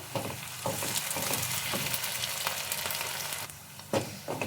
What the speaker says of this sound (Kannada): 1 ಸ್ಪೂನು ಶುಂಠಿ ಬೆಳ್ಳುಳ್ಳಿ ಪೇಸ್ಟ್ ಹಾಕೊಳ್ಳೋಣ. ಇದೆಲ್ಲ ಹಸಿ ಸ್ಮೆಲ್ ಹೋಗೋವರೆಗೂ ಸ್ವಲ್ಪ ಸಿಮ್ಮಲ್ಲಿ ಇಟ್ಕೊಂಡು ಫ್ರೈ ಮಾಡ್ಕೊಳ್ಳಿ